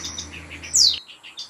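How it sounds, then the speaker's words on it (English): A sick pet bird chirps in short, high tweets, a few spaced calls with one sharper, louder chirp, close and alone in a quiet room. "Look at my poor bird sick"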